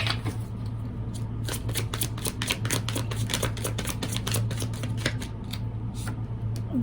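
Tarot cards are shuffled close up in a quick run of crisp riffling flicks, the card slaps repeating steadily throughout over a low constant hum.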